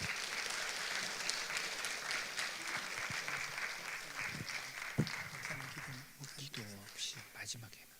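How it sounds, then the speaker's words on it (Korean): An audience at a special lecture in a hall claps steadily to welcome the speaker, a dense, fairly soft patter of applause fading toward the end with some murmuring. "박수로 모시겠습니다"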